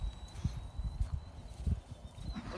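A training horse walks through a turnaround, its hooves landing in an uneven clip-clop of soft, close thuds on the ground, with no talking.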